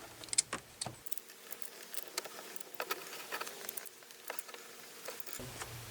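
A battery cutoff switch connection on a C3 Corvette is tightened with quiet, close metallic clicks and small taps, scattered irregularly over a few seconds.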